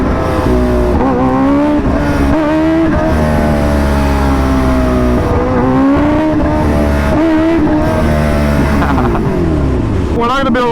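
A Kawasaki Ninja H2R race motorcycle pulls away, its loud engine revving up and down through the gears close to the microphone, with a steady, dense roar throughout.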